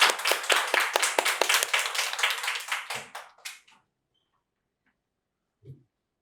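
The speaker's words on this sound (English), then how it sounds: "Round of applause for our first speaker." A small audience at a junior public speaking competition claps in quick, distinct hand strikes for roughly four seconds, then stops abruptly, leaving near silence and one faint low sound afterward.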